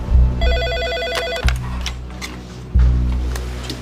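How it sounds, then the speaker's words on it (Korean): A telephone bell rings in bursts, three rings spaced about a second apart, loud and close, in an office during a typhoon emergency at a steelworks, with no talk over it. "대표이사님 전화입니다."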